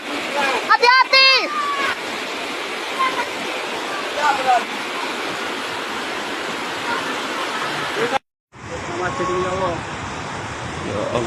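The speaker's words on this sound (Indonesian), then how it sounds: "hati-hati deras sekali arusnya" Rushing floodwater with a strong current during a flash flood in Indonesia, a loud continuous roar and splashing that fills the whole clip, with voices shouting over it and a brief cut near the end.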